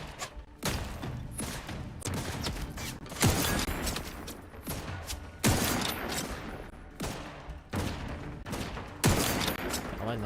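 Gunfire in The Outer Worlds 2 video game rings out as loud, sharp shots, roughly six spaced a second or two apart, each followed by a brief rumbling tail, with light talk faintly underneath.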